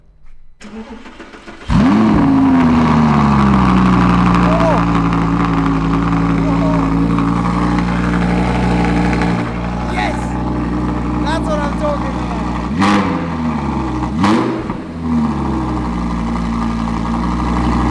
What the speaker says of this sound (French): c'est le moment, on va la démarrer pour la première fois